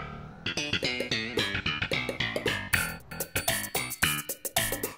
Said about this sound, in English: which had that distinct guitar and mouth pop sounds